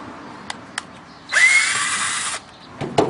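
A power drill unscrews the cover of a hot water heater being scrapped: a few sharp clicks, then a close, loud whirring burst of about a second before it stops, followed by more metallic taps.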